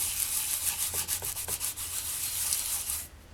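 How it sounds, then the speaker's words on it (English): A snowflake stencil is rubbed firmly onto polymer clay, giving a soft, close, scratchy rubbing in quick repeated strokes with short pauses, no voices. "I want you to burnish that into your clay thoroughly."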